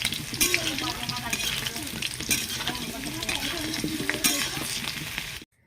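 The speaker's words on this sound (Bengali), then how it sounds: "আলুগুলোও সুন্দরভাবে ভাজা হয়ে গেছে, একদম লাল লাল করে।" Potatoes fry in mustard oil in a large wok with a close, steady sizzle, overlaid by repeated scraping and clinking of a spatula stirring against the metal, ending abruptly.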